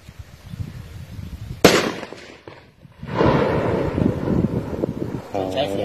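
A sharp gunshot-like crack of rubber bullets fired upward to scare off a troop of macaque monkeys raiding cassava fields, followed by loud outdoor rustling and people talking nearby.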